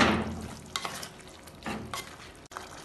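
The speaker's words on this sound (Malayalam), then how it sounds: "ഇതിനെ ഒന്ന് ഇളക്കി കൊടുക്കാം" Chow chow (chayote) curry being stirred in a pot, giving a few soft scraping strokes over a faint simmer, close and fairly quiet, with no talking.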